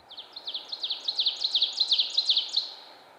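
An ovenbird sings a loud, clear series of about a dozen rising two-note phrases that build in strength, sharp against a quiet woodland background.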